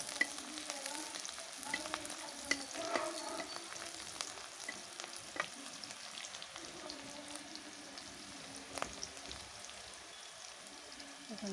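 Whole cinnamon and cardamom frying in oil in a pan over a wood-fired stove, a steady soft sizzle with scattered crackles and pops throughout.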